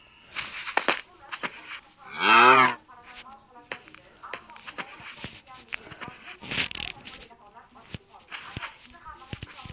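A single drawn-out cow moo rises loud and close for about a second, surrounded by scattered voices, footsteps and farmyard clatter.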